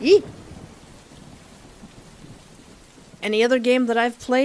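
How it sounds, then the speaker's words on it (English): Steady rain from a storm in a video game hisses softly for about three seconds, then a voice cuts in over it. "Looks like that rainy weather became a storm."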